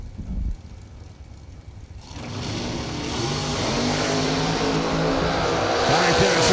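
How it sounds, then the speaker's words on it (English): A blowout car on a dirt-track racing circuit roars in from quiet, its engine surging loud and close with rising revving tones that sweep up and down, alongside steady broad road and wind noise. "The blowout car goes in here on the left-hand side of the racetrack"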